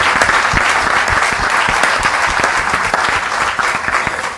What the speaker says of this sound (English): A round of applause, please, for our ladies.